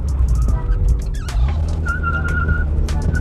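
An Opel Astra F pulls hard in third gear, heard from inside the car as a loud, steady engine drone with a thin whistling whine that holds briefly.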